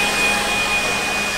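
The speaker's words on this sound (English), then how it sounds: "I'm going to take our blower and I'm going to blow this out real good." A blower roars steadily at close range as it blows ash out of a Traeger Ranger pellet grill, a loud continuous airy rush with no pauses.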